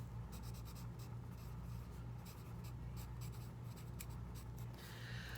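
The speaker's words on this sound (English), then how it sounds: "We're first gonna write our name at the top." A name being written on a worksheet, a quiet run of quick pencil strokes scratching on paper over a low steady hum, no speech.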